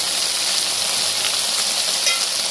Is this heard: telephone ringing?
no